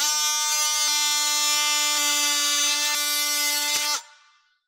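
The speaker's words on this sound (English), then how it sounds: "I cut off the extra plastic" A power tool whines steadily at high pitch while cutting excess plastic off a polished piece. The whine runs for about four seconds with faint ticks, then cuts out and quickly fades.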